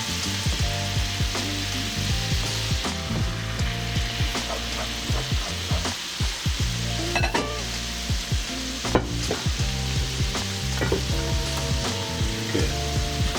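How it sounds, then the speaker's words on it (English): Garlic and wine sizzle steadily in a hot pan as the wine cooks off, with frequent scraping and stirring strokes from a utensil across the pan, close up and with no talk. "A little bit more wine. You want the wine to burn off."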